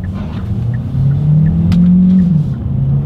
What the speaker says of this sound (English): I'm gonna go ahead and put in a sport driving mode here, and let's put the paddle shifters to the test here first.